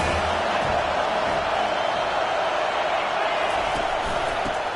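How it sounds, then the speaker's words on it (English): Football stadium crowd during a USC versus Penn State game on third and long, a dense, loud, steady roar holding throughout with no breaks. "Here comes the crowd trying to make it tough on 3rd and long."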